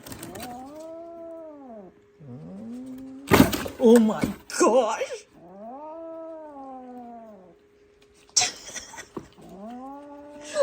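A calico kitten yowls repeatedly at a dog in long, drawn-out caterwauls with a steady, rising-falling pitch, loud and close, broken by short bursts of noise and a person's exclaimed voice.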